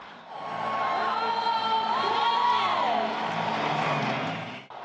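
A crowd of 40,000 at Seoul World Cup Stadium roars as players walk onto the pitch, a broad, swelling cheer with whoops that rises, holds for several seconds, then fades.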